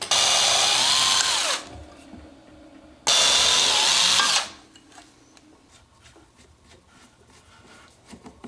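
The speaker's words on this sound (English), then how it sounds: "When you're drilling a thin panel like this on a drill press" A drill press bores through a thin panel for a DIY Eurorack module in two loud, steady whining bursts separated by a brief pause, with quiet workshop clatter after them.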